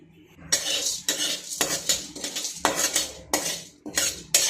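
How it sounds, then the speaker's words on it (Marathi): Dry seeds are stirred in a pan over low heat without ghee, a spoon scraping and clinking against the metal in repeated bursts roughly every half second, close and fairly loud, with no sizzle. "आता आपण जे सीड्स आहेत ते सर्व परतून घेऊयात।"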